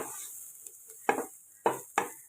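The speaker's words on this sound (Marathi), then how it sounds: "आता हे आपण छान ढवळून घेऊया" A spoon stirs leftover rice with spices and homemade garam masala in a pan for masala bhat, giving three distinct scraping strokes against a quiet background with faint sizzling and no talk.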